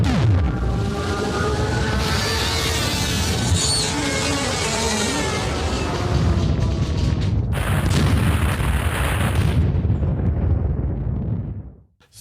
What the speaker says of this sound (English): 3 shots from Talon's mighty, mighty grown-up cannon